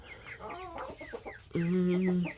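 Young Silkie chickens and a rooster cluck and chatter close by in an outdoor run, with short overlapping calls followed by one louder sustained squawk near the end.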